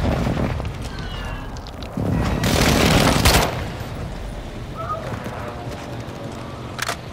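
Rapid gunfire bursts from Call of Duty: Modern Warfare II ranked Hardpoint multiplayer, a loud sustained volley in the middle with scattered shots before and after, plus a sharp late crack, amid game ambience.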